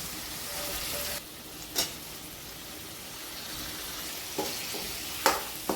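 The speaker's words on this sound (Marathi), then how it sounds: "शेवग्याच्या शेंगांना चांगलं परतून घ्यायचं आहे फोडणीमध्ये" Drumstick pods frying in a hot tempering of oil and spices, a steady close sizzle with a few sharp stirring scrapes and pops, no voices.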